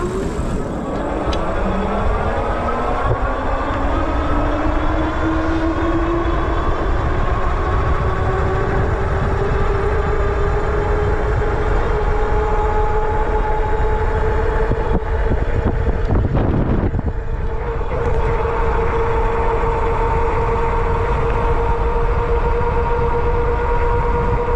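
A Boombike Zeegr F1 Pro dual motor e-bike ridden at top speed, its motor whine rising steadily in pitch as it accelerates, over heavy continuous wind rush and road roar, loud and sustained with no talk.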